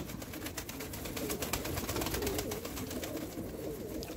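Tumbler pigeons of a Turkish flying breed coo softly and repeatedly over a steady, faint outdoor background.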